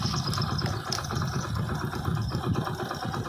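Close and loud, the modified motorbike idles in a continuous, slightly uneven chug with a light mechanical patter, and no one speaks.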